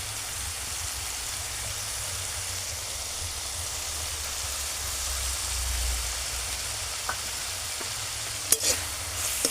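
Ginger garlic paste frying in a pan with cooked-down tomato masala, a loud continuous sizzle with a few faint clinks near the end.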